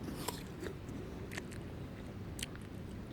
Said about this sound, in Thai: พี่น้องมาเบิงเป็ดกินแอปเปิล